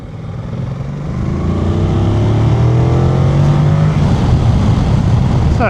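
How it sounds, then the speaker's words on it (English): A Yamaha Tracer 7 motorcycle with a 697cc parallel-twin engine accelerates in normal street mode, its loud, close drone climbing steadily in pitch through the gears. "This is a 697cc parallel twin, and I can tell you it has plenty of go in it."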